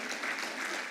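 An audience at a presentation on a Ghana health survey report claps hands together, producing a dense, loud, continuous wash of applause throughout.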